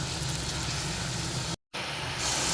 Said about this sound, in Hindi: अब इस लम्हे पे आकर ये हम मटन सारा डाल देंगे और इसे भी अच्छी तरह से हम 2 से 3 मिनट फ्राई करेंगे